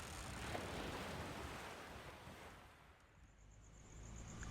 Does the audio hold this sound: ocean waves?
yes